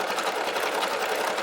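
Brother SE1900 embroidery machine stitching an Easter basket design in a 4x4 hoop, a fast, steady mechanical whir with rapid needle pulses, close and continuous.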